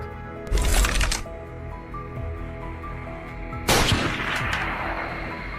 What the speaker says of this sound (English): A thunderous gunshot echoed through the forest.